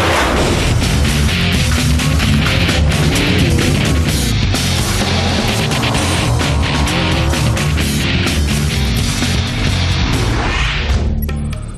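A 2013 Ford F-150 with an EcoBoost engine roars at the Baja 1000 finish in La Paz, a loud, continuous, dense blast of engine noise with no pause.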